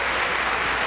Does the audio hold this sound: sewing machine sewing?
no